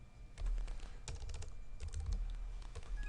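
Rapid typing on a computer keyboard while renaming a file, a steady stream of close, distinct key clicks running throughout with no voices.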